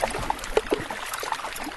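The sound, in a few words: air bubbles popping in melting iceberg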